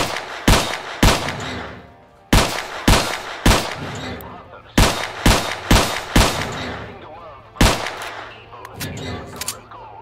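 Rifle fire in the video game S.T.A.L.K.E.R. Clear Sky: loud sharp shots in short bursts and single cracks, with pauses between groups and faint background between volleys.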